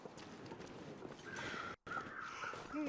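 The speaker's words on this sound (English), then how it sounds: "Some crows over there." Crows cawing in the snowy wilderness of the survival video game The Long Dark, several harsh calls over a steady wind-like background, with a brief dropout midway and no talk.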